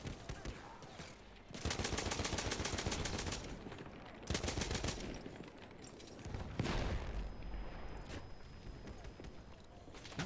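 Bursts of gunfire from the Battlefield 1 video game on the Tsaritsyn map, with sustained rapid fire in several loud stretches, dense and continuous, interrupted by brief gaps and a sharp onset near the end.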